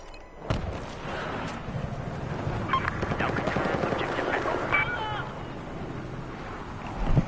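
Gunfire in Battlefield 4, a steady run of sharp cracks and rattling bursts layered with wind and water-craft rumble, fairly loud and continuous, with voices talking over it.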